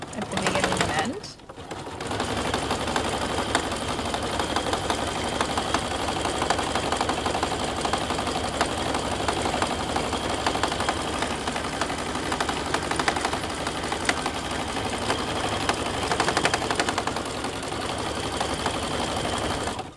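A sewing machine runs a zigzag stitch along a jeans hem. It whirs steadily and rapidly, close up, for most of the clip after a brief pause near the start, with a person talking over it.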